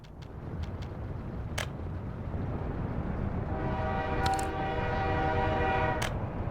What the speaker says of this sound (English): We want to see the train going away.